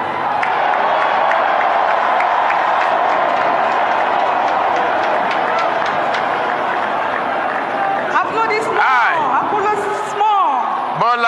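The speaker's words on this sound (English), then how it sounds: "Applaudissements." Sustained crowd applause and cheering in a large gathering after Bola Tinubu takes the presidential oath of office in Nigeria, a loud, dense wash of clapping with voices and shouts rising near the end.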